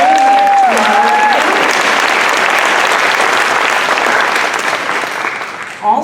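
Loud, dense applause from an audience honoring the Community Foundation for Monterey County, steady throughout and tapering near the end, with a voice briefly audible at the start.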